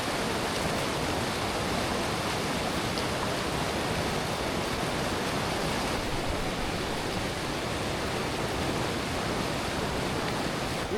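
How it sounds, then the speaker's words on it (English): A flowing backcountry creek being waded across on a three-day trip, a dense continuous rush of water that stays loud and uniform from start to finish, with no voices. "This is a flowing creek that we're gonna have to cross."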